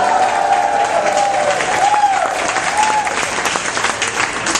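Studio audience at a live neighborhood-federation debate broadcast from the Melting Point bursts into sustained, dense applause with scattered cheers and whistles, steady and close throughout.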